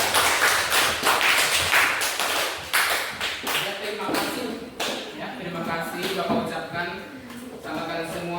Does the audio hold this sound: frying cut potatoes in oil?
no